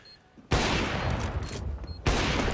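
Two loud, close gunshots from jumping no-scope shots in Counter-Strike, each a sharp blast trailing into a long ringing decay, the second arriving about a second and a half after the first.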